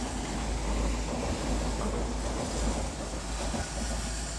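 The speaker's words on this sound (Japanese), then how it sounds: "今後ろに電車が通ってるんでちょっと待ってください" A train passes behind someone filming outdoors at night near streetlights, heard as a continuous broad rumble with rail noise that stays fairly even for the whole stretch, with no talking.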